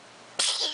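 A single close sneeze from a child bursts out after a moment of quiet room tone, sharp at onset and fading over a short tail.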